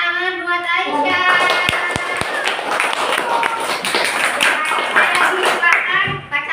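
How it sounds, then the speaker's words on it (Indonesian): A classroom of pupils claps hands for a classmate, a burst of dense, uneven clapping after a moment of speech, continuing loud and close for several seconds. "Tepuk tangan buat Aisyah"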